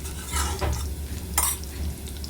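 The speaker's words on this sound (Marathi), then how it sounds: "तेल टाकलं, लसूण टाकलं, जिरं टाकलं." Garlic and cumin sizzle in hot oil for a spicy ivy gourd (tondli) bhaji, with short bursts of stirring and pan scraping over a steady frying hiss.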